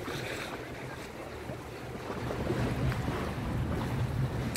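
Continuous wash of sea waves on the coast at Izmir mixed with low wind rumble, a steady broadband roar that grows slightly louder partway through, with no voices.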